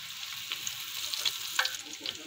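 Cumin seeds and bay leaf crackling in hot oil for a tempering, a close, bright sizzle scattered with small pops and spits, fairly steady throughout and without any voices.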